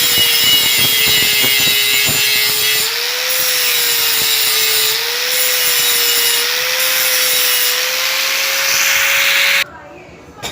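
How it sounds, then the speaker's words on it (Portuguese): A grit 40 flap disc grinds down a weld, giving a loud, steady abrasive whine with a droning tone that runs almost unbroken for about nine seconds, then cuts off abruptly near the end. "Flap de grão 40, ele vai ser usado agora para baixar essa solda."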